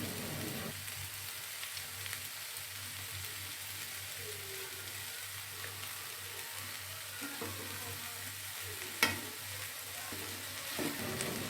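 Three tablespoons of margarine melting in the centre of a pan beside set-aside sautéed vegetables, the start of a ragout filling for pastel, giving a steady soft sizzle and crackle with a sharper pop near the end and no talking.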